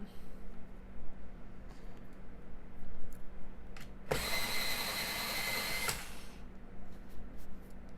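A coloring pencil is sharpened in one loud, continuous grinding burst of about two seconds, close up, set against a quiet background.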